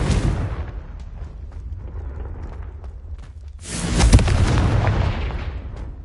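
A Confringo blasting-spell explosion in the Hogwarts Legacy video game: after a low rumbling lead-in, a loud, heavy burst erupts midway and rolls on into a booming, debris-filled decay, with no speech over it.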